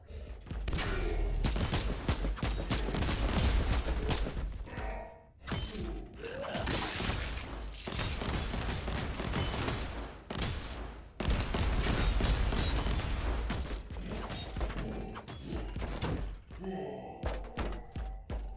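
Shotgun fire in the video game Warhammer 40K: Inquisitor - Martyr, with loud, rapid bursts of blasts, shattering impacts and heavy thuds that run almost continuously, broken by two short lulls.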